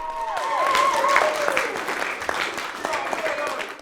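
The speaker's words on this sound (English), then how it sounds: "Everyone receives a rousing round of applause." Rousing round of applause from a group of young people at a mindfulness course, steady dense clapping with cheers and voices mixed in throughout.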